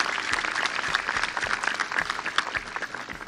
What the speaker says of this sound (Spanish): El aplauso grande, obviamente reconociéndole